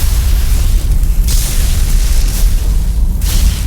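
Spaceship weapons fire and explosions in the Stargate Universe series: a loud, continuous rumbling barrage of deep booms with bursts flaring at intervals, no voices over it.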